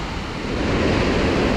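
Floodwater from an orchard area rushes through a breach dug in a wall into a drainage ditch on a rural quinta after heavy rain, a steady loud broadband roar of flowing water without pauses.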